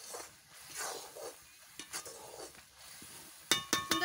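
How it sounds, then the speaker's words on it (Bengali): Sugar syrup for boondi laddu being stirred in a pan: a faint, soft sizzle with gentle intermittent scraping strokes, ending in a few sharper clinks of a spoon against metal. "এবারটা নাড়াতে থাকতে হবে।"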